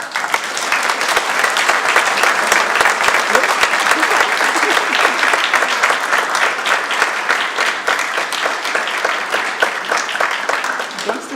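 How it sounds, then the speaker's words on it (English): Audience at a Redmond city council business meeting breaks into loud sustained applause, dense clapping that stays steady for the whole stretch and tapers slightly near the end, with no talking. "hope our audience will give them a big round of applause"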